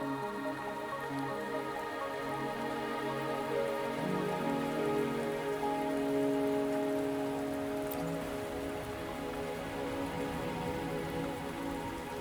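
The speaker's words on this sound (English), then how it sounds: "Are you trapped here by the rain?" Steady rain pattering on surfaces in the video game Wuthering Waves, continuous throughout beneath a sustained musical drone, with no speech.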